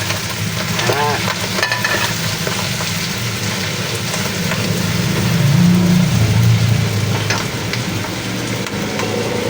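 Chicken cooks in a pan with mushroom, garlic and onion, giving a steady loud sizzle with occasional stirring scrapes, and the frying swells a little toward the middle.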